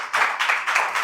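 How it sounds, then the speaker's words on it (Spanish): A church congregation breaks into brief clapping during a Spanish-language Sunday sermon, with a few loud rhythmic bursts of hands that start abruptly after a short quiet moment. "Dale un fuerte aplauso al Señor,"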